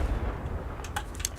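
A Confringo spell is cast in the Hogwarts Legacy video game, giving a short, sharp blast followed by a few crackling bursts, loud and close, with no one talking.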